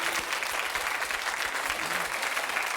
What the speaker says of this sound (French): on applaudit très très fort Wendy